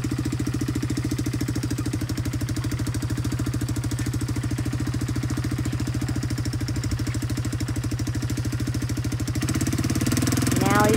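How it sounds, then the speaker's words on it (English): A four-wheeler ATV engine runs steadily up close, a loud, continuous low throbbing drone that holds evenly for the whole stretch and swells slightly louder near the end. "the girls are riding a four-wheeler"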